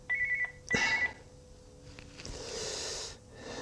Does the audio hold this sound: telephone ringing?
yes